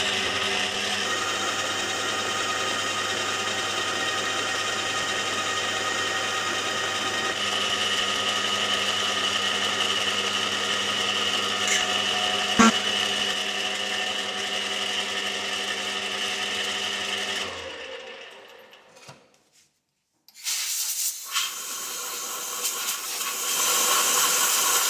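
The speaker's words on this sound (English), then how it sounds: "Here I am now machining down the bore to suit the part that I made earlier" A lathe machines a bore for a die holder part with a steady whining hum and hiss, layered tonal drone holding constant before cutting off abruptly, a brief silence, then the machine noise resumes.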